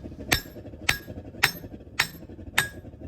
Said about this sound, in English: I'm gonna use the hammer and hold it at an angle so that when I hit